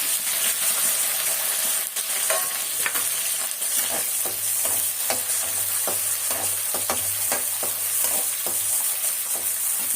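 Large garlic cloves, curry leaves and country onions fry in hot oil, a dense steady sizzle close up with frequent scraping stirs of a spoon against the pan.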